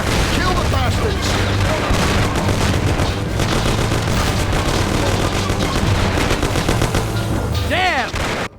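Sustained gunfire fills a shootout in the video game Mafia: The City of Lost Heaven, loud and dense throughout with overlapping shots and bursts, shouted game dialogue mixed in.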